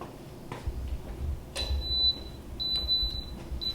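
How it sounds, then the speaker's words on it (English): An Instant Pot set on manual for 37 minutes gives a thin, high electronic beep, repeated as short tones that stand out over a low kitchen hum, with no talk. "that beep means that it's now going"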